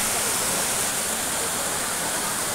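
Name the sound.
Talon River water flowing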